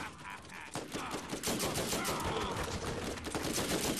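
Rapid automatic turret fire rattles in a Borderlands co-op firefight, dense bursts of shots piling up continuously and loud throughout, with no talk over them.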